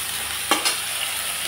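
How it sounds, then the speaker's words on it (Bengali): Eggplant pieces frying in oil with a little salt and turmeric, a soft steady sizzle with two quick stirring scrapes near the middle, no voices. "সামান্য লবণ, সামান্য হলুদ দিয়ে আমি বেগুনগুলো আগে ভেজে নেব"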